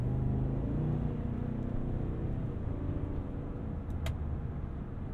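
A 2022 Cadillac Escalade ESV's 6.2-liter L87 V8 engine and exhaust give a steady low rumble while cornering at speed, close and continuous with road noise and no talking.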